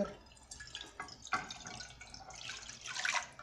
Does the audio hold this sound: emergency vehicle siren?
no